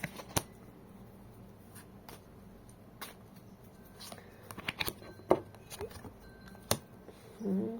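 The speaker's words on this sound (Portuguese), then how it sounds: "Eu vou tirar 4 cartas." Tarot cards being drawn and handled in a quiet setting, a series of soft, close flicks and slides with scattered sharper snaps.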